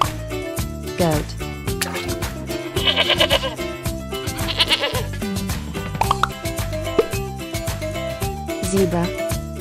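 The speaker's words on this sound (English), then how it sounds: "Goat." A goat bleats in several short, wavering cries over cheerful background music, with a voice speaking briefly between them.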